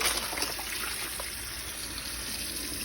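Tap water runs steadily into a sink while canning jars are rinsed, a continuous close splashing hiss with faint clinks, no talking.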